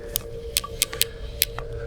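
A Zeiss Conquest Gavia 65 spotting scope's rotating collar gives a series of about six crisp, sharp clicks at irregular intervals, close and fairly faint over a quiet steady hum.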